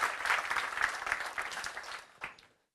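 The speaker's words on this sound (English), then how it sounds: "So give them a round of applause." Audience applause at a youth summit in Stockholm, a dense steady patter of many hands that tapers off toward the end with a brief final burst before falling silent.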